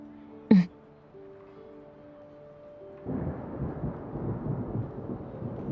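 Thunder in a video game: a low, rumbling swell rises after a quiet stretch and rolls on steadily at moderate loudness, preceded by a brief sharp sound over soft background tones.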